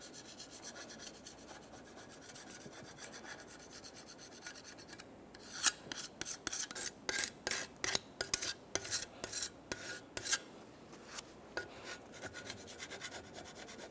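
Rough, rhythmic scraping strokes rasp against a hard surface as an old gasket is scraped off a Dodge Ram 2500 intake surface, starting after a quiet stretch and repeating in short, uneven bursts.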